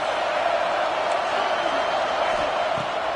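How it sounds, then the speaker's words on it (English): A Buckeye stadium crowd roars on third down in a simulated college football video game, a broad steady wash of cheering that holds throughout with commentary voices over it. "The Buckeye crowd alive on 3rd down."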